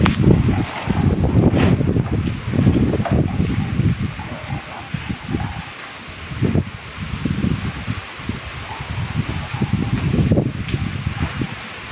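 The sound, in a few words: strong wind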